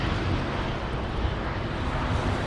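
A TAP Portugal airliner passes overhead outdoors, bound for Lisbon or Porto, its engines producing a loud, steady broadband roar that fills the whole stretch without a break.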